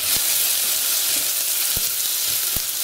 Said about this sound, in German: Hier braten meine Zwiebelchen im Topf.